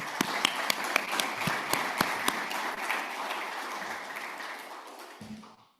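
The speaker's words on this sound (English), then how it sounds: "Round of applause for those guys." An audience at a closing ceremony breaks into applause with crisp individual claps standing out at first, then the clapping thins and fades away toward the end.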